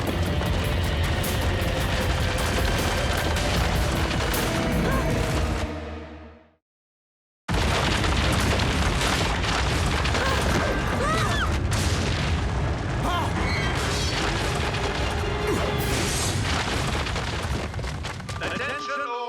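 A cannon shot explosion in a Transformers Rescue Bots cartoon: loud booming blasts and dense rumbling that cut to a brief silence, then resume in heavy continuous roaring.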